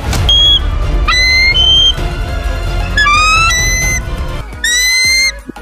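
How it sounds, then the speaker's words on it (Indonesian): A bird of prey's real call, identified as an eagle: a series of high, thin, whistling squawks and chirps in quick bursts, loud and close, with short pauses between calls and no talking. "Namun sebenarnya suara elang tidaklah seperti itu,"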